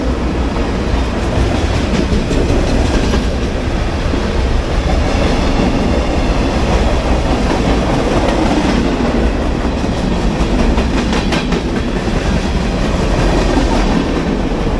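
A train rolls past on the tracks beside an abandoned railway station in Limestone, Tennessee, with a loud, continuous, close rumble and clatter of wheels that fills the whole stretch.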